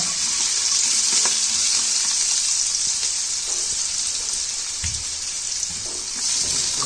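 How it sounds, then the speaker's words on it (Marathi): Steady, loud sizzling of onions frying in hot oil, a continuous crackling hiss with occasional soft clinks, no talking. "तर कांद्याची फोडणी देऊन घेऊया"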